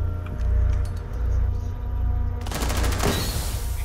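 A burst of gunfire from the video game Rainbow Six Siege rings out in the Tower map, with a dense run of shots and a sharp loud volley near the end.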